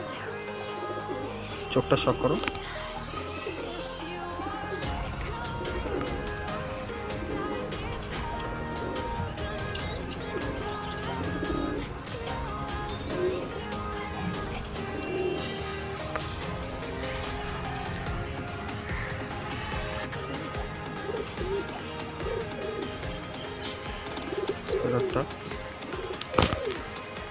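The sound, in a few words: pigeons cooing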